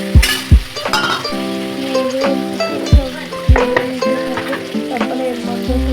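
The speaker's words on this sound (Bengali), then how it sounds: "3 চামচ আমরা দিয়ে দিলাম পেঁয়াজ রসুন বাটা 3 চামচ দিয়ে এটাকে আমরা নেড়ে নেড়ে" Onion and garlic paste fries in a pan while a utensil stirs it, giving steady sizzling and sharp metallic clinks of spoon against pan at an irregular rhythm, up close and with no talking.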